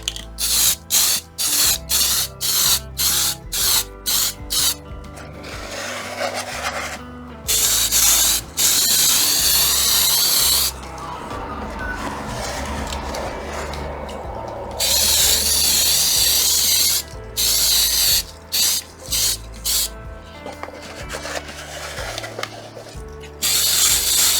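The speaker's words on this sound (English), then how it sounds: "I'm just going to prime all these before I paint them black." Primer sprayed from a can onto wooden parts for an Artesania Latina Soleil Royal model ship, coming as loud, close hissing bursts, a run of short rapid puffs and then several longer sustained blasts, with no talking.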